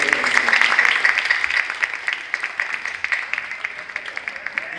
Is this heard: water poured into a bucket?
no